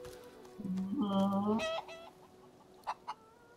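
A chicken clucks a few times at moderate volume, then a couple of short, faint clicks follow in a quiet setting.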